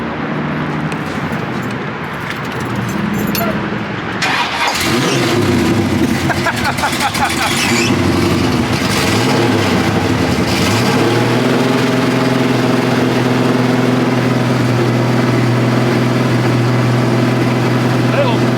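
A Pontiac 455 V8 engine in a LeMans, with an X pipe, idles with a steady, slightly uneven lope, a faint stumble hinting at a misfire, while people talk nearby over the rumble.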